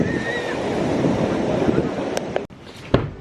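Ocean surf at an Ibiza beach washes in as a steady broadband roar with wind buffeting the microphone, and faint voices are heard near the end.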